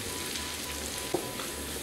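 Onions, turmeric and other spices fry in a pan with a steady, close sizzle and a single brief clink midway.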